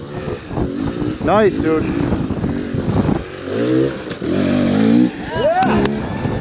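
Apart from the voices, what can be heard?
off-road vehicle engine revving while crawling up rocks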